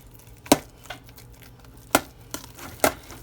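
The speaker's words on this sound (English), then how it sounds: "You want to give it a good mix so that you make sure you get all that flavor incorporated in it" A spoon stirs creamy mashed potatoes enriched with milk in a pot, giving a few sharp, close knocks against the side amid a soft, quiet mixing background.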